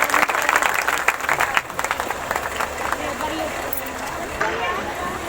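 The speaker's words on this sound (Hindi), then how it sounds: "हालेलुया, ताली बजाएंगे जोर से परमेश्वर के लिए।" An Easter meeting congregation of a prayer ministry claps loudly and steadily, a dense roar of hands with crowd voices blended underneath and some louder bursts early on.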